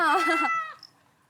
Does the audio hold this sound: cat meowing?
yes